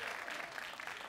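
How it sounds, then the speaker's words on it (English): Audience applause at a live comedy show, a brief burst of dense clapping from a crowd in a theater hall, moderately distant and steady throughout. "Clap it up for Rob Stapleton one more time."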